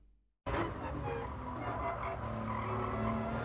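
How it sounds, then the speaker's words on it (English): A Gr.3 race car in Gran Turismo Sport brakes hard into a hairpin at Autodrome Lago Maggiore East. After a short silence, tire squeal and engine drone begin abruptly and hold loud and continuous to the end. "as I brake into the corner, I initially pull the car slightly to the left to help widen my line of approach into the hairpin"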